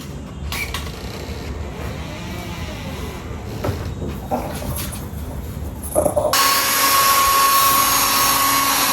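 A hair dryer on a dog just out of its bath, held at a distance, switches on partway through with a sudden loud, steady whooshing roar and whine, after quieter rustling and handling noises.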